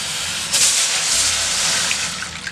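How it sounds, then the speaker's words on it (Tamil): Water in a pot for rice-flour dumpling dough begins to boil, a steady hissing bubbling with soft gurgles, close and continuous. "பாருங்க இப்பெல்லாம் கொதிக்கிறதுக்கு ஆரம்பிச்சிருச்சு பாருங்க."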